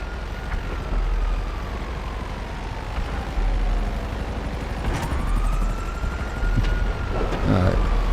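Helicopter in GTA Online: a continuous droning engine and rotor whine holds throughout, sliding slowly in pitch like a passing aircraft, with occasional sharper bangs near the end.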